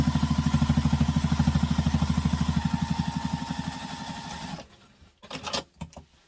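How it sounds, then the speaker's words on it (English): A sewing machine runs a fast, steady straight stitch on a wristlet at construction stitch length, loud and close with an even mechanical chatter, then stops abruptly and a few soft clicks and handling noises follow. "now on our machine we're going to stitch down the required distance, making sure it's on construction length stitch."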